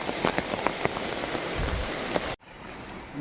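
Rain falling during a Konkan fishing outing, a dense steady patter with scattered louder drops, close and continuous before cutting off abruptly near the end.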